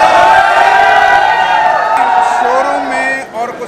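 A dense crowd fills a Kawasaki motorcycle showroom in West Delhi, a steady loud murmur of many voices with shouts and cheering rising out of it before a brief dip at the end.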